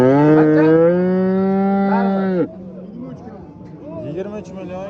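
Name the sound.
cows mooing at livestock market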